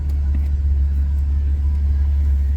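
A 1982 Ford Granada two-door drives in circles, its engine giving a steady low rumble heard from inside the cabin, continuous and fairly loud with no clear changes in revs.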